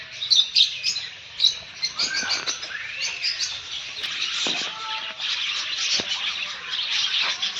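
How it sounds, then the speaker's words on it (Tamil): Peach-faced lovebirds at a lake park chirp and tweet in repeated high, bright calls, some near and some farther off, mixed with short whistled notes over a quiet background. "இது பேர் பீச் ஃபேஸ்டு லவ் பேர்ட்ஸ்"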